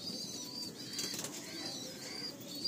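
A Madrasi pigeon flapping its wings while held in the hand, heard as quiet, brief feathery flutters against a soft background hiss.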